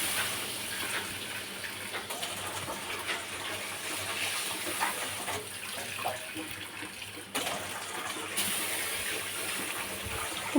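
Cold water poured from a vessel into a cooking pot for a fish and potato curry, a steady rushing gush of water at moderate level running continuously.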